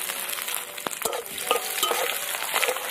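Chopped garlic and onion fry in hot mustard oil with panch phoron and dried chillies, a soft steady sizzle broken by several sharp spoon clinks and stirring scrapes, fairly close and moderately quiet.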